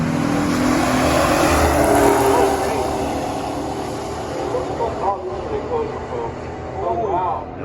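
A Super Cobra Jet and a 1969 L78 SS Camaro drag racing at a pure stock event, loud broadband engine roar sustained then easing, with a commentator talking over it and the crowd noise.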